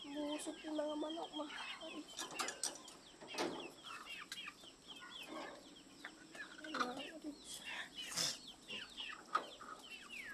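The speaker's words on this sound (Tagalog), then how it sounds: "Busog yung mga manok." Chickens cluck and chatter steadily in a busy coop, with scattered wing flaps and faint background voices throughout.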